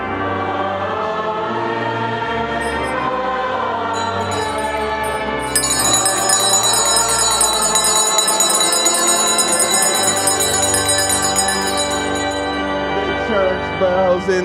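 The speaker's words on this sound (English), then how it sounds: "Bells in the building" Bells ring inside a building, sustained and resonant, growing fuller and brighter partway through with overlapping tones, with no talk over them.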